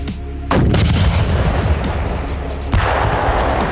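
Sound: RPG grenade launcher firing

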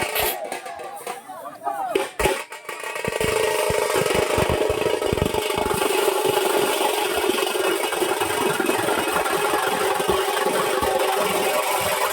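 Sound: tractor engine idling before the village procession

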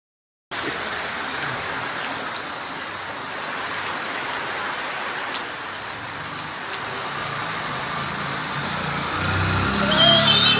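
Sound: rain falling

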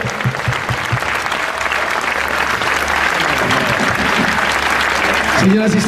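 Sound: audience applause after tango performance

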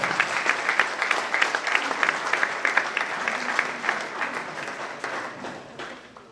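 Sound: audience applause

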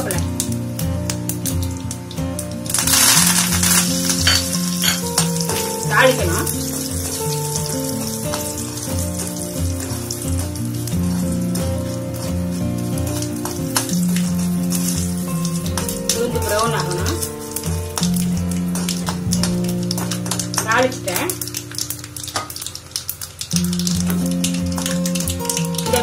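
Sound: mustard seeds, urad dal, asafoetida and curry leaves sizzling in hot oil

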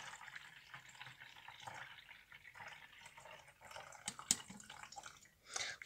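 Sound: water poured from jug through funnel

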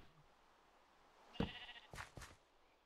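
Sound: sheep bleating in the video game Minecraft

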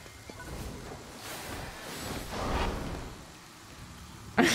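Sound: rain in the video game Ghostwire: Tokyo

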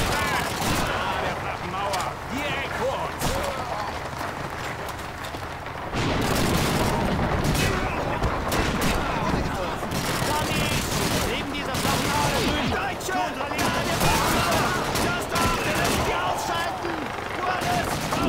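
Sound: machine gun fire in video game Call of Duty 2

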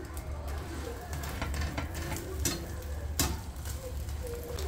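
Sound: egg frying in a pan

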